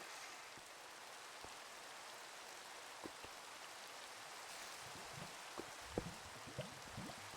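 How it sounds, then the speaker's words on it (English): Continuous rain in Minecraft hisses evenly, with scattered individual drops tapping a little louder now and then, heavier in the last couple of seconds. "I wish it wasn't raining"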